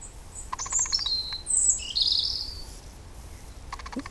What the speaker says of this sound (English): Two birds in here.